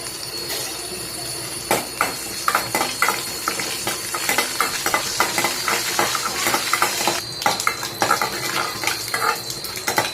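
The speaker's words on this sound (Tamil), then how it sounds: "கடுகு நல்லா பொரிஞ்சிருச்சு." Mustard seeds and curry leaves crackling and spluttering in hot oil in a pan while sambar is being cooked, with a steady mass of sharp pops over a soft sizzle.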